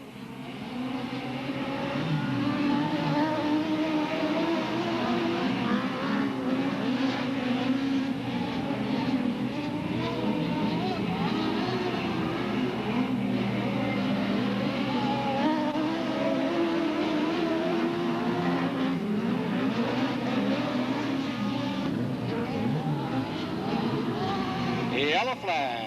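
Stock cars race at Delta Speedway in 1996, a continuous roar of engines filling the clip, loud and steady under an excited announcer's running commentary.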